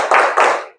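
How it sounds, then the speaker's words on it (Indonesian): A classroom group performs a short, quick focus clap, with two sharp, loud bursts of hand clapping in rapid succession, close by and alone. "Ayo kita tepuk fokus dulu."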